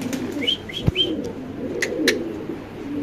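Exhibition show pigeons, including Modena pigeons, coo in soft low murmurs at a pigeon exhibition. A few brief chirps and sharp clicks rise above the steady crowd-like background murmur.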